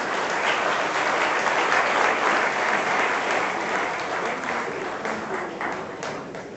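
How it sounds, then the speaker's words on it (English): An audience gives a round of applause, dense sustained clapping filling the room for several seconds before beginning to thin slightly toward the end. "Can you have a round of applause for all of them?"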